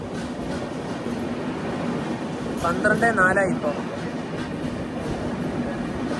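Vivek Express train standing at New Alipurduar Junction platform 2 in West Bengal, a steady low rumble of railway carriages with a brief squealing, clattering burst midway, under continuous nearby talk.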